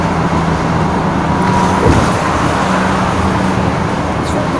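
Road traffic rumbles steadily around a moving bus, a continuous low engine drone with passing vehicle noise and a brief louder swell midway, with no talking.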